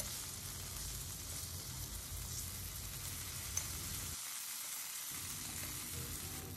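Cut boiled potato frying in hot oil in a karahi, a quiet, steady crackling sizzle throughout with one small pop, no voices.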